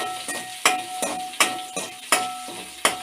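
Crushed onions fry in hot oil after popping mustard seeds for a drumstick gravy, giving a steady close sizzle broken by regular stirring scrapes about every three-quarters of a second.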